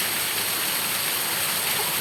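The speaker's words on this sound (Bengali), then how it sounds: "আরে বৃষ্টি রে, মুষলধারে বৃষ্টি হইতেছে।" Heavy torrential rain in a flooding downpour, a dense, loud, continuous hiss that fills the whole clip without pause.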